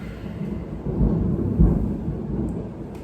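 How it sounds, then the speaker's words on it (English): A deep roll of thunder rumbles outdoors, swelling twice in low heavy surges over steady rain-like hiss, with no talking. "Oh, thunder."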